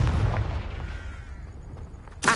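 Confringo blasting spell in the video game Hogwarts Legacy, a booming explosion that rumbles and decays over about two seconds, followed by a sharp new burst at the end.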